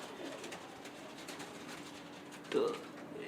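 Domestic racing pigeons (grebaz) cooing at a high-flyer pigeon fair, low murmuring coos under faint crowd chatter, with one louder, nearer coo near the end.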